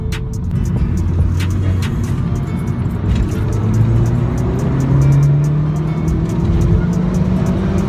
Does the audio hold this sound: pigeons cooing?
no